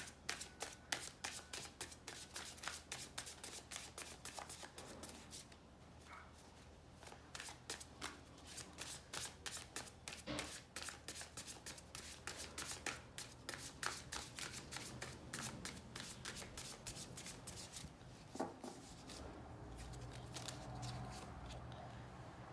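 Froud Faerie oracle cards being shuffled by hand, a long run of quick, crisp riffling snaps and flutters, close and steady with brief pauses, quiet overall.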